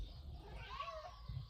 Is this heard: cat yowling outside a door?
yes